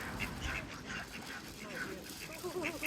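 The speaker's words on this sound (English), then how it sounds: "The Egyptian geese there." Canada geese and Egyptian geese being hand-fed, giving scattered honks and calls at close range over a busy outdoor background, with voices talking nearby.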